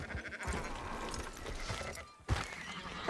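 Sheep bleating in the Red Dead Redemption 2 video game, mixed into busy ranch ambience with hoof clops, a short dip and then a louder bleat near the end.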